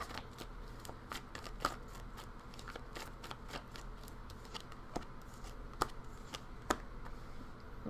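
Tarot cards are pulled and shuffled from a deck at close range, giving quiet repeated papery flicks and brushes with a few sharper snaps, over steady low room noise and with no talk.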